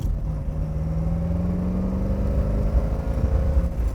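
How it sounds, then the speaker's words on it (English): A 1968 Chevrolet Corvette 427 convertible with a 4-speed hums steadily with a low, throaty V8 exhaust rumble while driving, rising slightly in pitch as it accelerates, close and continuous. "driving a convertible with a 4-speed's a lot of fun. Get to really listen to that exhaust tone."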